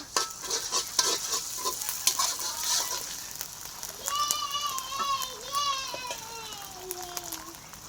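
Onions frying in a pan with ginger-garlic paste added, a steady sizzle with stirring scrapes, while children's voices and a faint melodic tone drift in the background.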